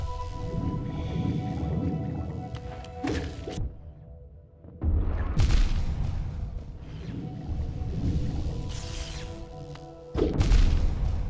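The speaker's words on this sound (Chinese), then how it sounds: "那个原来会爆炸" An explosion goes off in the Hollow Knight video game, with heavy thumps and booming crashes. Loud bursts around the middle and near the end are separated by a quieter gap, and no voices are present.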